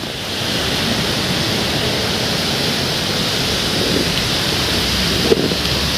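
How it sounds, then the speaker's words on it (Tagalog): Heavy rain pours down in a steady, dense roar near a roadway off-ramp, with low thunder rumbling beneath it and no voices. "Pahupa muna tayo ng ulan syempre."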